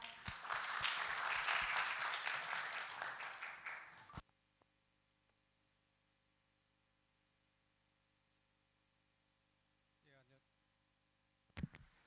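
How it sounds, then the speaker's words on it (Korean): A seminar audience applauds a university professor, a loud burst of dense clapping lasting about four seconds before stopping abruptly into near silence, followed by faint handling noises. "여러분, 교수님께 큰 박수 부탁드립니다"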